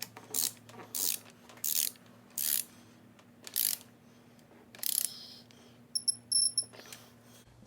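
A torque wrench ratchets in short, loud bursts while cylinder head bolts are tightened during an engine rebuild, about eight clicking runs spaced roughly every second, close up, with a quick series of sharp clicks at the end.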